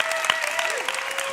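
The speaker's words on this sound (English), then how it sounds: "Round of applause for DeRay McKesson." An audience applauds a speaker, DeRay McKesson, at a Hero Roundtables event, steady dense clapping with a few cheers, filling the short span at even loudness.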